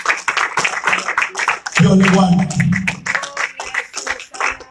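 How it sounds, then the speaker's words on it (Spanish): A Spanish-speaking church congregation claps in quick, rhythmic bursts, fairly close and loud, while someone speaks over it and a low hum swells midway. "Denle un aplauso al Señor"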